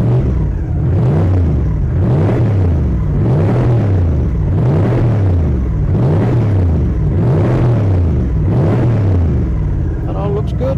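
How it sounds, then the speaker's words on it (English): A turbocharged Toyota 1UZ V8 revs loudly and repeatedly, about seven rhythmic surges of rising and falling engine pitch in steady succession, heard up close from the car. "what I need to do now is rev it up"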